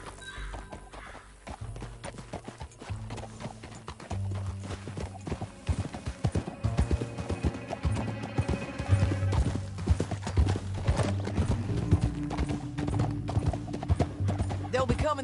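Horse hooves pound in a steady galloping clip-clop through the Red Dead Redemption 2 game world, continuous and close, over a low musical drone, with occasional snorts.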